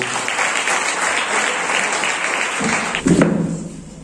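Sustained congregation applause in a church welcoming the sermon, a dense steady wash of many hands clapping that swells near the end and then tapers off.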